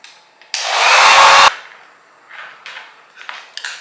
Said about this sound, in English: Take my blow dryer again on cool air